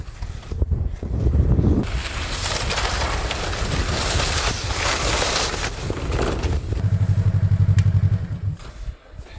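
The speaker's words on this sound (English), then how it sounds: "Grim, He always gets nervous when it's snowmobiles around" Snowmobiles drive close by in snowy, windy Svalbard, a loud steady engine drone with rough, gusting texture that continues throughout, with a deeper rumbling pulse toward the end.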